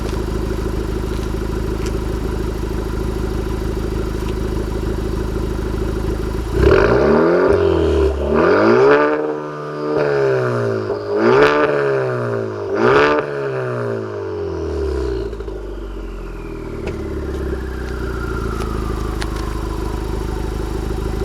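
A Honda Civic Type R with a Remus exhaust idles, then revs up to 4,500 RPM several times in a row, each loud rising blip falling back before settling to a steady idle.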